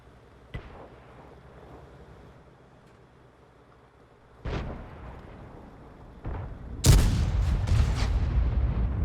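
In World of Tanks, a T78 US tank destroyer's gun fires with a few heavy booming shots over a low engine rumble, the last blast loudest and followed by a rolling, sustained roar of battle noise.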